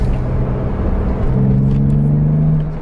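A BMW Z3 M Coupe engine accelerates on a drive with a steady, loud, close-up rumble that climbs into a rising drone partway through before easing off at the end.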